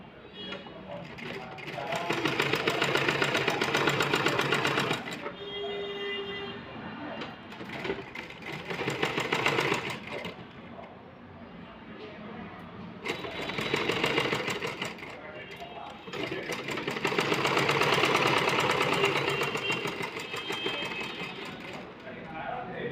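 A sewing machine stitches a blouse with a two-thread seam, running in bursts of rapid mechanical whirring that start and stop, with someone talking during the pauses.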